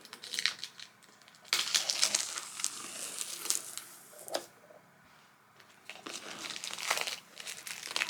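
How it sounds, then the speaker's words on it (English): Plastic wrap cut and torn off a diamond art mystery box, close, loud crinkling and crumpling in bursts with a short quiet pause midway. "I'm going to cut this plastic off real quick"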